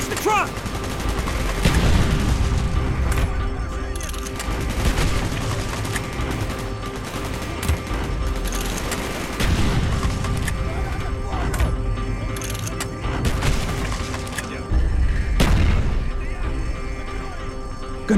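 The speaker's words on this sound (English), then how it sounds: "Gunfire's drawing attention." Sustained bursts of automatic gunfire and booms in Call of Duty: Black Ops, rattling on and off throughout with voices talking over the shooting.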